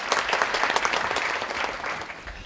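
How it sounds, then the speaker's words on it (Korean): A seated indoor audience at a future-education forum applauds a newly introduced guest, a full, even wash of many hands clapping that holds steady throughout. "박수시죠."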